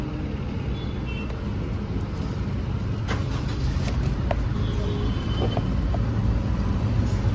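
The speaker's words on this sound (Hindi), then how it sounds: "गाडी आपण आता पेट्रोलवरती स्टार्ट करून पाहणार आहोत।" A CNG car's engine is started on petrol and settles into a steady idle, heard up close and fairly loud with faint roadside noise around it.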